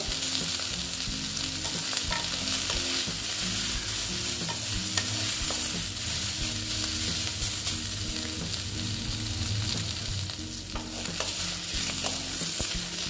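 Bitter gourd slices fry in oil in a pan, a continuous close sizzle broken by repeated scraping and clattering as a utensil stirs them.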